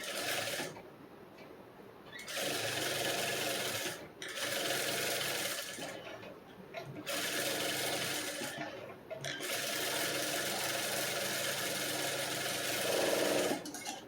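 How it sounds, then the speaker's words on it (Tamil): A sewing machine stitches around blouse lining and saree cloth, whirring steadily in several close runs separated by brief pauses. "நம்ம சுற்றிலும் தையல் போட்டுடலாம்"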